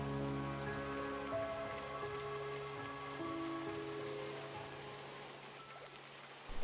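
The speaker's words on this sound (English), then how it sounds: "when you go outside, you can hear the pouring rain" Pouring rain ambience outside a metro station in the video game Revita, a steady, dense wash of rainfall with soft tonal music lines running beneath it, even and unbroken throughout.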